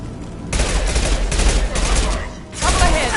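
Rapid gunfire in the Mass Effect 2 video game, with sustained bursts of shots filling most of the clip, a brief lull near the end, then renewed firing, loud and close.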